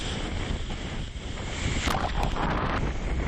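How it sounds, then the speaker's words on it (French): Strong wind buffets the microphone over the rush and slap of rough sea aboard a racing boat in The Race 2000 non-stop round-the-world race, with spray bursts hitting near the end. "Vent fort et mer formée."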